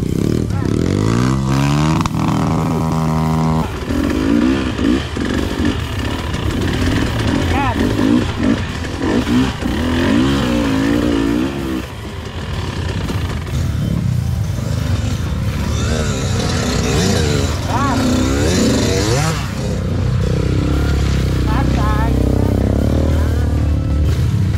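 Trail motorcycle on an off-road track, its engine revving and droning loudly throughout, rising and falling under people talking and shouting nearby.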